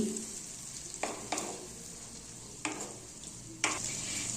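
Boiled chicken with cashew paste and sour yogurt is stirred in a pan, giving soft sizzling under several distinct scraping strokes of the spoon, quiet and close, with no speech.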